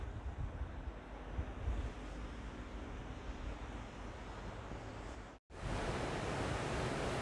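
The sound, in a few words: rushing river water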